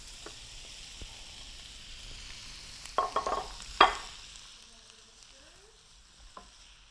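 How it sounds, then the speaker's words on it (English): Beef goes back into a stew pot with sautéed onions, setting off a bright sizzle and a few scraping stirs. Clatter and hiss swell briefly at the drop, then ease to a steady low fry. "After the onions have sauteed for a little bit, we're going to add the beef right back into the pot."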